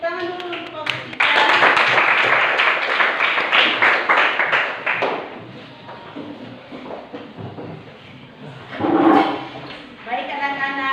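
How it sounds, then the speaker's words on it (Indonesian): A classroom breaks into applause for group 3, a burst of clapping from many students that starts loud and gradually thins, with a teacher's voice speaking over it and a short second round near the end. "Tepuk tangan dulu untuk kelompok 3"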